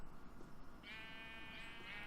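A sheep bleats twice in the Minecraft video game, a short wavering synthetic bleat around the midpoint and a second near the end, over steady background game noise.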